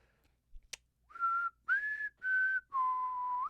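A person whistles four sustained notes in a row, the last held longest, clear and close, preceded by a brief sharp click and no other sound around them.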